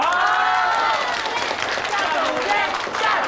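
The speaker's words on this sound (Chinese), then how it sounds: "接下来，让我们以最热烈的掌声欢迎夏总监入职" A crowd in an office setting claps in warm applause welcoming Director Xia, a dense continuous patter mixed with voices.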